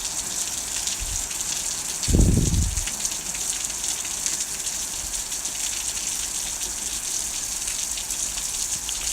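Heavy rainstorm outside, a loud continuous wash of falling rain with a brief heavier gush or splash about two seconds in, steady throughout with no talking.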